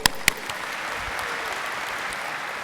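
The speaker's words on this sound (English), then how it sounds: "Can we give her a cheer?" Audience applause from a crowd at an annual meeting's keynote and awards program, a steady wash of clapping with a couple of sharp louder claps at the start and no talk over it.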